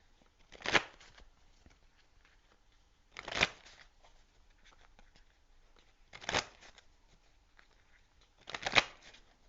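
Four short riffle bursts of tarot animal spirit cards being shuffled, spaced a few seconds apart, close and fairly quiet against a near-silent background.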